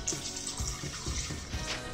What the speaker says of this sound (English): First, we're gonna put a little water in the blender.